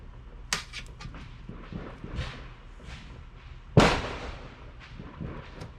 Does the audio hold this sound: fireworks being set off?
yes